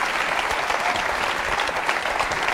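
A studio audience on the French game show Qui Veut Gagner des Millions? breaks into loud, dense applause, a sustained roar of many clapping hands heard close and without pause.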